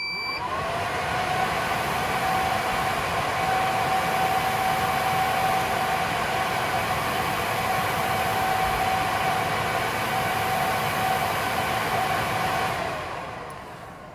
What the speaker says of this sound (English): This server is obnoxiously loud.